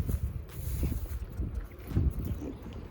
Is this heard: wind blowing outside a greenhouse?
yes